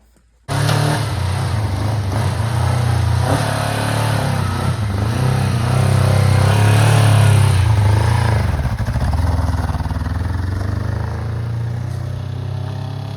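A restored vintage motorcycle engine runs loud and close with a steady, rumbling idle that holds throughout, easing slightly toward the end as the bike moves off.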